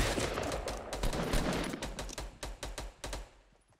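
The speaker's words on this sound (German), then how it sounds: "Die werden beschossen." Rapid bursts of Fortnite gunfire crack out near a stone fortress, a dense run of sharp shots followed by spaced single reports that thin out toward the end.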